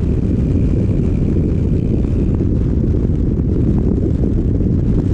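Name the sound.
Rusi Adventure X 150i scooter engine struggling to rev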